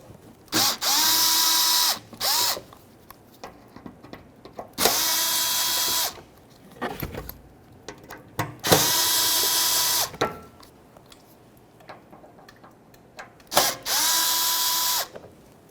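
A power drill backs out four Phillips-head screws on a 2005–2021 Nissan Frontier, running in four loud steady whirring bursts of one to two seconds, each ending with a brief ratcheting rattle, separated by quiet pauses.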